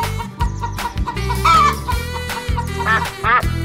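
A chicken clucks in a rapid string of loud, close squawks and clucks with short pauses between bursts, sounding over a low humming background.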